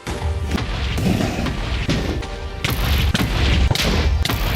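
End crystals blow up in Minecraft, a series of heavy booming blasts spaced irregularly across a few seconds, loud and close with no talk over them.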